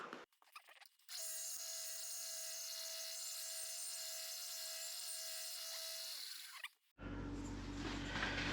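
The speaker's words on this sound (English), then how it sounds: "So we'll start off just sanding this guy off." A ring being sanded flat on one side gives a steady, even abrasive hiss that holds for several seconds, close and fairly quiet, then cuts out abruptly.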